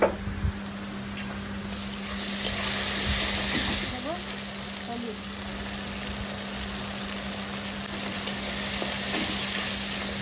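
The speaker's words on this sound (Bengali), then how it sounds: "পেঁয়াজটা লাল লাল করে ভাজা হয়ে গেছে" Onions fry in a pan until reddish brown, making a continuous close sizzle over a low steady hum, with light stirring noises and no speech.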